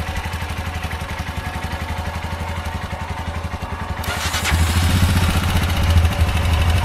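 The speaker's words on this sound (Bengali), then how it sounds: "বাইক এখন আমাদের কোল্ড স্টার্টিং হচ্ছে।" A rented motorcycle idles after a cold start, its engine putting out a steady, close chugging beat that gets louder and rougher toward the end as the revs rise a little.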